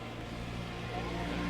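A groundsman's tractor crosses the cricket ground at a Hong Kong versus Scotland one-day international, its engine a steady droning hum that grows slightly louder as it approaches.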